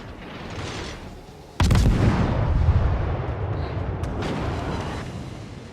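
Warship guns fire in World of Warships, one sudden heavy boom followed by a rumbling tail and fainter distant blasts, loud and without talk.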